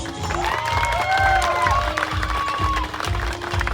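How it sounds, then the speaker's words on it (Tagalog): Wedding guests clap for the bride and groom's entrance at the reception, a steady crowd applause with some cheering, mixed with loud rhythmic music and a melodic line running underneath. "gusto ko malakas yung palakpakan pagpasok ng ating couple"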